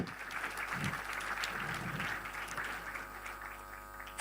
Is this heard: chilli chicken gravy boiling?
no